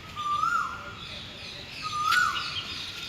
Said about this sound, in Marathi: झाडं असल्यामुळे पक्षी इतके येतात ना.